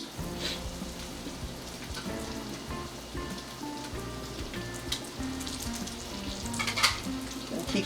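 Minced garlic and ginger sizzle in hot sesame oil, a steady close frying crackle broken by occasional scraping stirs, with no voices.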